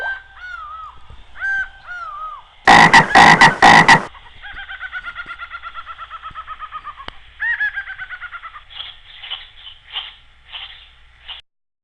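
Frogs croaking in repeated bursts and rhythmic trills, loud and close, broken by a brief harsh burst of noise midway.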